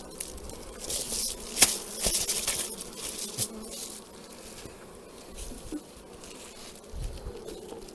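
Honeybees humming in an opened hive during queen cell introduction, a soft continuous buzz with faint rustles and a few brief knocks, quiet and close, with no talk.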